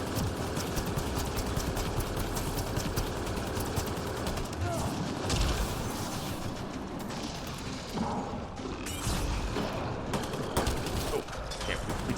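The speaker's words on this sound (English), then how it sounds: "Destroyer is definitely trying to shoot at someone here." A Destroyer enemy firing in Mass Effect Andromeda multiplayer during a Halloween zombie event: relentless, dense bursts of gunfire mixed with mechanical clatter and explosions, loud and continuous.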